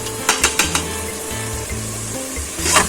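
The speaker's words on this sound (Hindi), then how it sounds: "अब इसमें हमने गोश्त को 2-3 मिनट के लिए फ्राई करना है।" Beef frying in a pan with crushed garlic and ginger for a gobhi gosht curry: a close, steady sizzle with a few sharp clicks of a spoon against the pan, and no talk.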